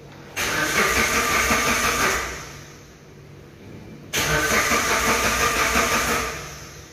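Engine of a Suzuki Grand Vitara 2.0, unused for about eight months, cranked twice on the starter: two loud whirring bursts of about two seconds each, separated by a pause, with no voices.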